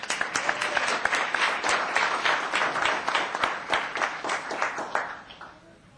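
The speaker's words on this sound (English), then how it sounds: "Another round of applause." A small crowd applauds at a town council meeting, steady and moderately close. The clapping fades out toward the end.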